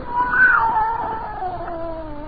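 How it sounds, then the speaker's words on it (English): A scrawny cat lets out a drawn-out, wavering yowl, a single stiff and hostile cry that rises and then slowly sags, heard close and clear as an audio drama sound effect. "It was a cat."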